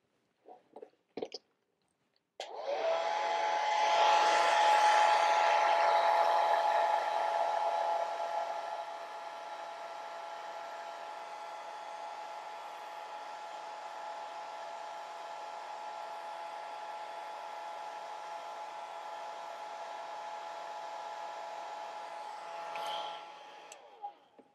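A hair dryer blowing on wet watercolor paint switches on after a few clicks, roars loudly for several seconds, then settles into a steady, slightly softer whir until it cuts off near the end.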